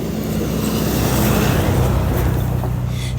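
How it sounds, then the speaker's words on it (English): A car drives past on a road, a loud, steady broadband roar of tyres and engine that swells slightly and then eases, heard close with no talk. "Hang on, here comes a car."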